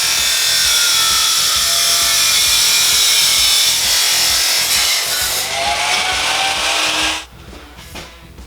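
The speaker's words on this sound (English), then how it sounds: "I'm going to cut this down to 12 inches so we can fit it over our modified muffler." A saw cuts an original Ducati aluminum muffler housing tube to length, giving a bright, continuous, close-up rasping that runs steadily for about seven seconds before stopping.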